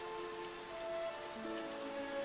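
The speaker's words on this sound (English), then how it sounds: "I've been enjoying the rain." Rain falls in the Pixel Perfect video game as a soft, steady hiss of drops on a surface, quiet and continuous, with faint sustained musical tones beneath and no voices.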